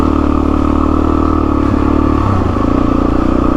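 Dirt bike engine droning steadily on a rocky trail, its throttle held with a slight rise and dip midway, loud and close throughout with no talking.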